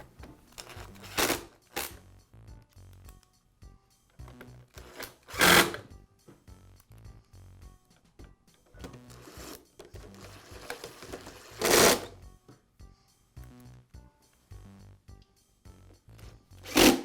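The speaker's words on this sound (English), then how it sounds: "Now I'll reinstall the screws that secure the 2 halves of the housing together." Screws are reinstalled into the two halves of a Bostitch air compressor housing, heard as several short bursts of a power driver whirring, separated by quiet rattles and handling noises.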